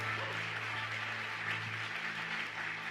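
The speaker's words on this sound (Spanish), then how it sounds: "Alguien que le aplauda y le celebre con fuerza" Church congregation applauding with energy, a steady wash of clapping that fills the room at moderate volume over a low electrical hum, with no voices standing out.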